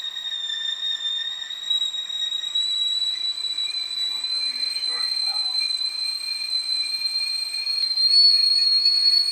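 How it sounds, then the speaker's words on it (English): A steady high-pitched kettle whistle sounds continuously, shrill and sustained, with faint background noise and a slight swell near the end. "Let me go ahead and turn off the tea kettle. You hear it whistling?"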